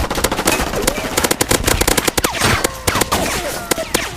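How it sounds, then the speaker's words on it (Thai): Rapid automatic gunfire from the Point Blank shooter video game rattles in dense, loud bursts for the whole stretch, with excited voices talking over it. "ยิงรัว ยิงเร็ว"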